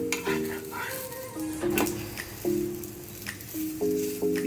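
Ragi finger millet roti being turned and cooked on a pan, with soft sizzling and a few light scraping and tapping sounds under a steady hum.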